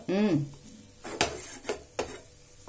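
A spoon stirring nethrampalazham biscuit mixture in a pan: a few scraping, clinking knocks of utensil against metal, spaced apart, following a short burst of speech at the start.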